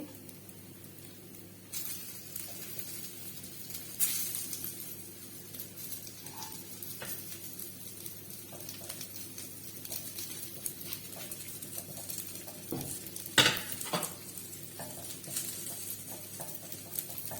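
A chicken kari dosa cooks on a pan with a soft, steady sizzle, broken now and then by faint taps and scrapes and one sharper knock near the end, fairly quiet and continuous throughout.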